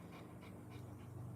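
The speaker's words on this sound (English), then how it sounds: "Here's my Cane Corso." A Cane Corso pants in quick, even breaths, soft and fairly close, with no talking.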